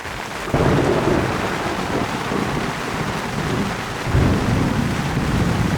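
Heavy rain pours steadily through a thunderstorm in the Peruvian Amazon jungle, heard from a tent, with a continuous loud roar of rainfall and deep rumbling thunder swelling twice, no voices.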